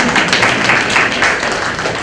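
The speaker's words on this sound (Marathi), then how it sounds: "टाळ्या वाजवा." An audience claps steadily at a Marathi talk in a hall, a dense continuous patter of many hands with no pauses.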